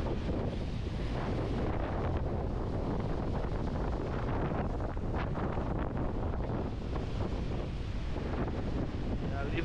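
Moderate south wind buffeting the microphone on a rocky coastal shore in Santa Catarina, Brazil, a constant loud roaring rush mixed with the wash of surf against the rocks.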